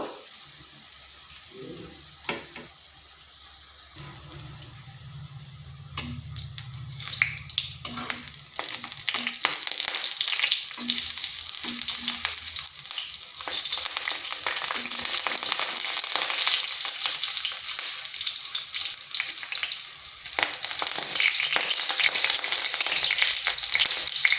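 Lentil fritters (dal bora) fry in hot oil, a dense crackling sizzle that builds and holds steady close up, with occasional stirring clinks and scrapes early on; no voices.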